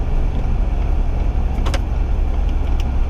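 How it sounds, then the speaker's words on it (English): A Ford F350 7.3L gas pickup engine roars steadily and close while towing a fifth-wheel trailer, a continuous low drone with a brief rise in pitch partway through as it downshifts, no voices. "You hear the downshift. I mean, you're kind of hearing the engine"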